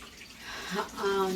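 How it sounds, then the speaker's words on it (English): Hands are rinsed under a running tap at a sink, a steady close splash of water with rising gurgles, while a person talks over it. "Let me just rinse off my hands really quick."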